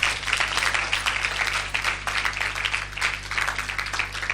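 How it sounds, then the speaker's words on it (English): Audience at a public speaking and leadership event clapping steadily for helpers, a dense sustained patter of many hands heard at moderate volume over a low constant hum. "So kindly give them a clap."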